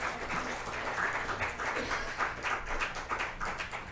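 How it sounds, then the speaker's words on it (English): Audience applause at a comedy show at Bob's, steady faint clapping from a small crowd with a rhythmic patter, no talking. "give Jake another round of applause"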